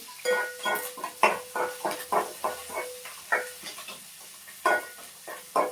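Onions frying in a pan for Tamil kathambam rice, with repeated bursts of sizzling and stirring scrapes at an uneven rhythm, fairly close and with no talking.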